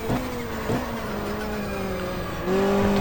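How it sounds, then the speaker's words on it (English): A Hyundai touring car in the GTR2 racing game, on track at Calder Park, drops back to second gear: steady engine drone with pitch dips at each shift, then a louder, higher rev near the end, with no voices. "Back to second gear, the back comes around."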